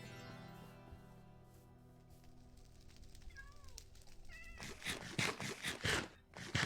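Minecraft cat meowing in a short burst of several rising, high-pitched mews near the end, following a quiet stretch of soft in-game ambience.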